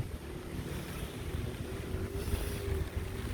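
Strong wind gusting through a rainy street in downtown Brooklyn, a steady loud roar with low rumbling buffeting against the microphone, continuous throughout with no talking.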